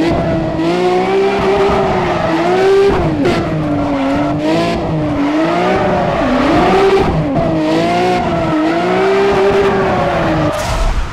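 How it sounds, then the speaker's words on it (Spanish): A Toyota Supra racing in Need for Speed ProStreet, with a loud sustained engine that rises and falls through revs and gear shifts alongside squealing tires, continuous and close with no talk. "Está muy bueno este Supra."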